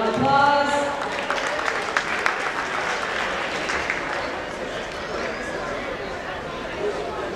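An arena audience at a 140-pound boxing bout applauds the two boxers, a sustained wash of clapping and crowd noise under an announcer's voice.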